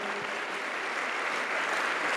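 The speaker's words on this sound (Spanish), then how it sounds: "un fuerte aplauso para Fernando Campero." Steady, dense applause fills a university talk hall as the audience claps for the speaker Fernando Campero, continuous and even from start to finish with no voices over it.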